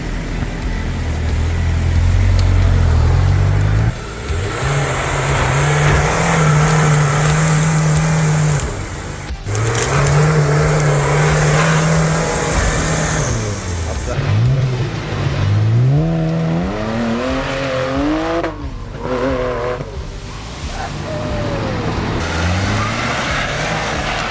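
A newly built rally car, a 4x4, drives and revs hard, its engine climbing and falling in loud, sustained pitch sweeps over rough running, with a brief cut in power partway through and no voices.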